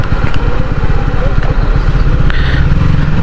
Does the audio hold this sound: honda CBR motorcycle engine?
yes